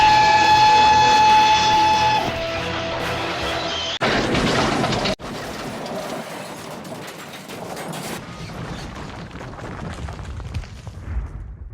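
A model railway engine crashes into a brake van and goods trucks: a tonal whistle-like hum, then a sudden loud smash and a sharp cut, followed by a long rumbling, clattering debris noise that slowly fades, with no talk.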